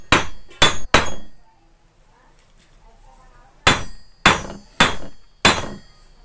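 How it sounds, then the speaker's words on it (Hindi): Seven sharp metal hammer taps fitting a water seal into a domestic water pump during a bearing and seal replacement: three quick strikes, a pause, then four evenly spaced blows, close and crisp. "इसको इस हल्का हल्का ठोक देंगे"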